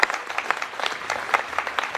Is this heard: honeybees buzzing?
no